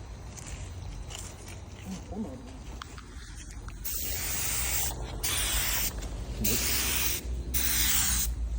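A spray gun fed by a small compressor at about 28 PSI through a 1.4 tip hisses while painting a Nissan Sentra bumper. The steady, close spray starts softer, then swells louder in long bursts with brief pauses.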